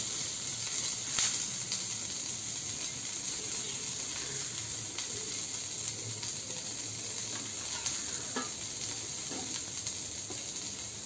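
A continuous, even sizzle of masala paste for Goan-style mixed vegetables frying in a hot pan, with occasional faint stirring clicks and no voices.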